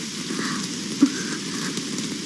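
Steady rain patters on a surface nearby, a soft continuous hiss with one brief tap partway through.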